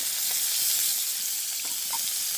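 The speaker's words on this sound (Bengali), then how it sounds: "এখন দিয়ে দিচ্ছি তেল, পেঁয়াজ আর মরিচ।" Chopped onion and chili fry in hot oil in a village kitchen, giving a steady, close sizzle with faint crackles that carries on without a break for the whole stretch.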